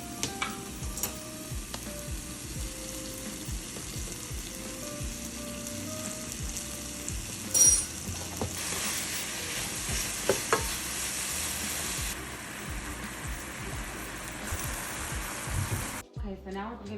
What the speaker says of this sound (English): we're gonna put that into our pan with our diced apples and let that soften